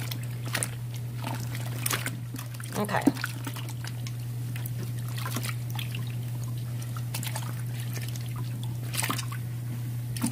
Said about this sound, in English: I apologize if the water is loud